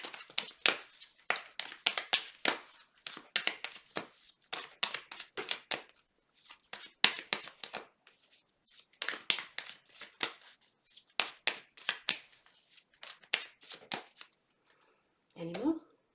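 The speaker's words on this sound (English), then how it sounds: "When I shuffle the cards." Tarot cards are shuffled by hand in repeated quick riffling bursts with brief pauses between them, crisp and close but fairly quiet, for the whole stretch.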